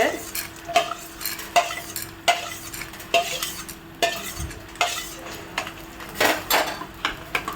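Ingredients for a pirandai (adamant creeper) thuvayal being stirred and roasted in a pan, a spoon scraping and clinking against the metal in a steady rhythm over a soft sizzle, close and fairly loud.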